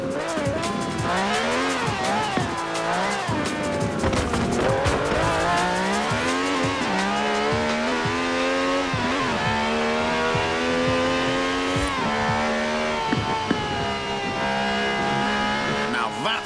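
V12 sports car with over 750 horsepower in the Forza Horizon 4 racing game, engine revving and rising through gears with tire squeals, loud and continuous beneath talking voices.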